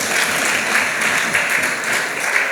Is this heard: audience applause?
yes